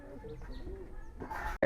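A Giribaz pigeon coos softly in a loft, low quiet murmurs ending with a brief rustle or flutter of wings.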